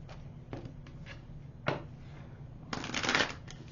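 A large deck of tarot cards is shuffled by hand in several quick riffling bursts, close and crisp, with a longer flurry near the end and quiet pauses between.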